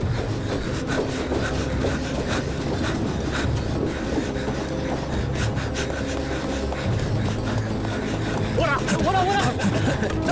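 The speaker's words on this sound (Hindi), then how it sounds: "जल्दी करो, ट्रेन में चढ़ो सब।" A train rumbles steadily with rattling, clickety-clack wheel noise and rubbing metal throughout, loud and continuous, with scattered voices and a brief squeal near the end.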